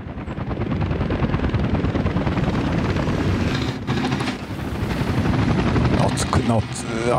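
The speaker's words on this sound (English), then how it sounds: "Helicopters, what the hell are you doing here?" Helicopters fly over a Soviet-era city in the building game Workers & Resources: Soviet Republic, a continuous dense rotor rumble that dips briefly midway and then resumes with some faint clicks.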